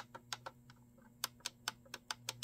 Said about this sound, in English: You can hear the difference in clicking